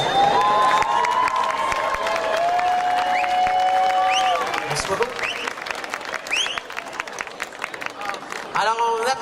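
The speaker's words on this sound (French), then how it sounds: "Alors, on applaudit Elvis Dubois, mesdames et messieurs." A lively crowd at an Elvis impersonator contest claps and cheers loudly for a contestant, with whoops, whistles and shouting voices mixed in, the applause holding steady before tapering into scattered clapping and chatter.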